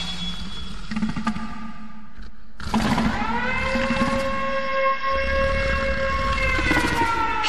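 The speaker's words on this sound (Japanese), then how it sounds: "終業のサイレンよ。" An end-of-work siren from the video game Killer Is Dead starts after a few seconds of low rumbling, then holds a loud, sustained wail to the end.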